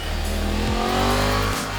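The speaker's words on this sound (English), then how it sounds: "So it's got an inline 4-cylinder engine." A 2016 Yamaha MT-10 inline four-cylinder crossplane-crank motorcycle engine revving nearby, its pitch dropping and rising again in a short burst.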